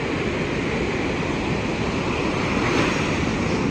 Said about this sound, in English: So the waves are coming in.